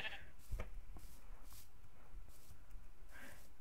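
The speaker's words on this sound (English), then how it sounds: "it's that stupid sheep again. That sheep's honestly creeping me out like hell" A sheep in the Minecraft video game gives a few short bleats, scattered and moderately close, heard amid quiet game sounds without talking.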